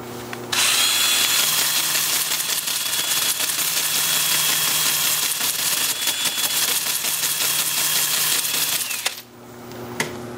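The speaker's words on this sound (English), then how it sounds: "Gonna have the lathe spinning in reverse at about 320." A wood lathe spins a root ball turning in reverse at about 320 while it is sanded, a loud, steady, continuous whirring grind with motor hum underneath, running nearly unbroken and easing off near the end.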